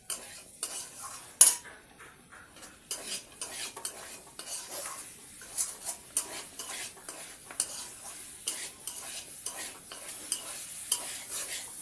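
Poppy seed paste being stirred in a pan, a steady scraping and clinking of a utensil against metal with faint sizzling, close and moderately loud, with no talking.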